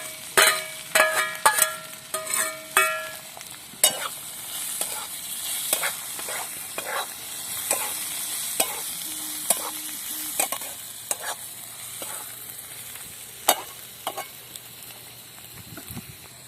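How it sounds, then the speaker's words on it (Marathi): Onion fries in oil with already-fried spices for egg bhurji, a continuous sizzle broken by frequent sharp spatula scrapes and clinks against the pan, close and fairly loud. "तर आता मसाले तळलेले आहेत आणि त्यामध्ये आता आधी टाकायचा आहे कांदा"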